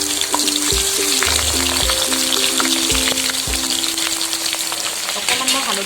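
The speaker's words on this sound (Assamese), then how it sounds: "আলুখিনিকে ৰঙা কৰি ভাজি লওঁ।" Potatoes fry in hot oil in a pan for a fish curry with tomato. A steady, crackling sizzle fills the whole stretch, close and loud, with a few low thumps and a faint tonal hum underneath.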